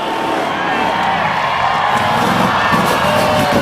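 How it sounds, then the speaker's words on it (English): A county fair crowd watching a rough truck race cheers and shouts in a dense, steady roar that fills the whole stretch without a break. "Let's cheer him on."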